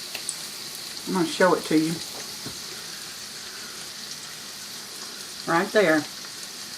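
Smoked sausage and bacon browning in a pot, giving a low, steady sizzle in the background while a person speaks briefly twice.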